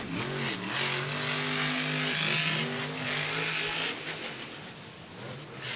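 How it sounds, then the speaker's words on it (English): A Monster Jam monster truck's engine revs hard in a dirt arena, its throttle rising and falling in rhythmic surges, loud and close over a steady roar of crowd noise. "you can hear that truck"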